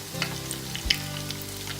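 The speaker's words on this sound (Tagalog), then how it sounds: "So, i-fry na natin." Tuna spring rolls (lumpia) dropped into hot oil for deep frying, giving a close, continuous crackling sizzle with small pops and no talking.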